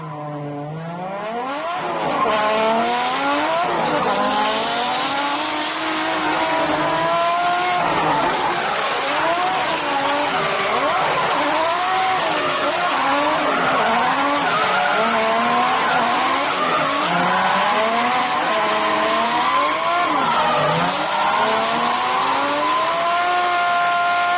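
Drift car sliding sideways in a door-to-door drift battle chase run, tires squealing loudly and continuously with wavering pitch as the engine revs rise and fall, close and sustained throughout.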